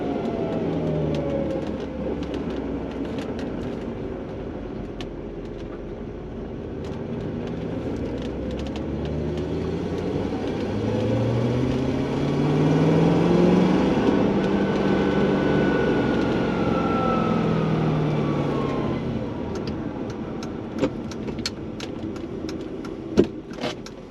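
V8 engine with noisy lifters running close to full throttle, giving a loud sustained roar with sweeping pitch rises and falls over about twenty seconds, alone without talk.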